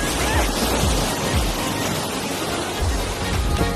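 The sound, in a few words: sea waves splashing on the shore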